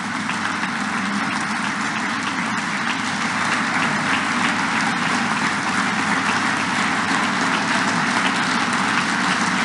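A congressional chamber audience applauds a presidential address in a dense, steady roar of clapping that holds loud and unbroken throughout.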